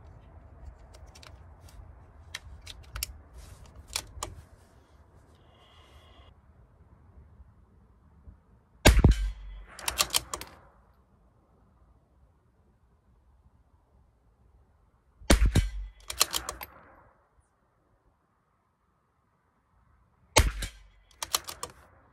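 Sharp rimfire cracks from a CZ457 LRP rifle firing Eley Pistol Plus ammunition at a 50-yard range: three loud, well-spaced shots, each followed by a short ringing echo, after faint handling clicks at the start.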